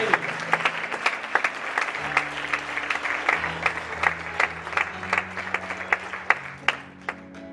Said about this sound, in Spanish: Si le va a aplaudir, apláudale a Él.